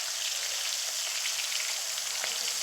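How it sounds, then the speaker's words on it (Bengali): Amaliya fish frying in plenty of hot oil, a steady close hiss and crackle of sizzling with scattered spattering pops throughout and no voices. "অল্প অল্প মাছ দিয়ে বেশি করে তেল দিয়ে কিন্তু ভেজে নিতে হবে ভালোভাবেই"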